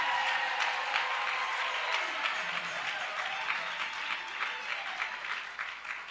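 Sustained applause from an audience at a patriotic gathering in Burkina Faso, a dense steady clatter of many hands filling the whole stretch with no voices over it.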